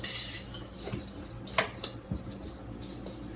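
A spoon works through a bowl of homemade granola with dried cranberries, giving soft scraping and a few sharp clinks against the bowl, with no one talking.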